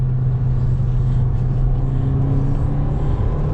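A 2023 Fiat Pulse Abarth with a 1.3 turbo engine and six-speed automatic pulls hard in the rain. A steady, loud engine drone runs unbroken from inside the car, thick with low-end rumble and road noise.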